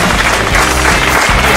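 Loud, unbroken applause fills the air at the 2016 motocross championship prize ceremony in Calatayud, Spain, with a dense crowd wash holding steady from start to finish.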